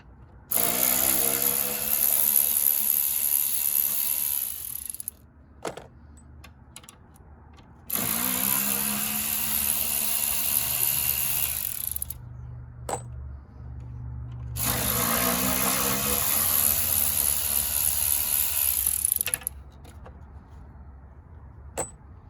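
Power ratchet removing 8 mm bolts from a Jeep Grand Cherokee V6 throttle body, running in three loud sustained whirring bursts of several seconds each, separated by quiet gaps with faint clinks and handling.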